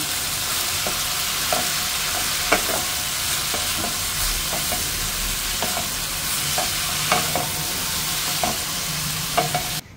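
Radish frying with salt and ground spices is stirred in a pan, a steady close sizzle with scattered scraping knocks of the utensil and no talking.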